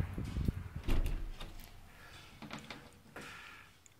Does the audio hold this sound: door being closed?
yes